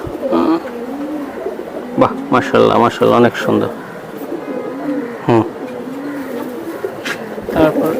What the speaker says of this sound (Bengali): অসাধারণ অসাধারণ কবুতর অসাধারণ সিলভার কবুতর এটা